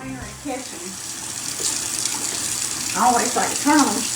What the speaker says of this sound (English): I always like to turn on cool water when I'm dumping hot water in the sink